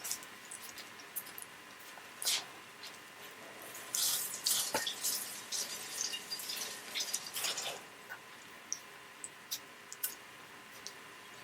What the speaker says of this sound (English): Rinse my hands.